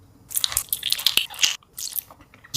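Biting into a giant Gushers fruit snack during a gummy candy mukbang, close and loud wet squishy bites and chewing in short clustered bursts with a brief pause midway.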